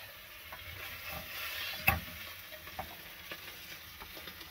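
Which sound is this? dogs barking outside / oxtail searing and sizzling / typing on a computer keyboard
oxtail searing and sizzling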